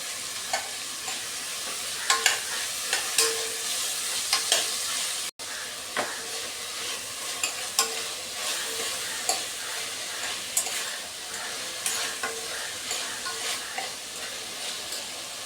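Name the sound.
green chillies, crushed garlic and ginger frying while stirred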